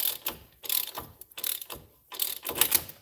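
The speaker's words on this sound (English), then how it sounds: "I'll get it started with the ratchet though." A hand ratchet clicks in quick bursts of rapid strokes, with brief pauses between, tightening a front strut bolt on a 2012 Chevy Malibu LT, heard close.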